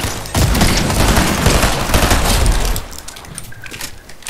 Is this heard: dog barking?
no